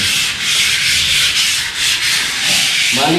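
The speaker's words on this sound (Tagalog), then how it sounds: "So, liha muna tayo, liha." Steady, continuous rasping of sandpaper rubbing back and forth across a wall, close and loud, with no voices.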